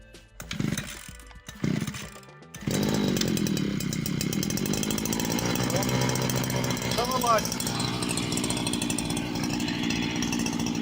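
A Vitals Master BK 522t petrol brush cutter sputters in short bursts, then starts and settles into a loud, steady buzzing idle close by.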